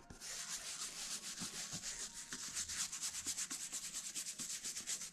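A White Sox baseball cap is scrubbed lightly with a brush, producing a steady run of quick, rhythmic rasping strokes that are soft, close and continuous.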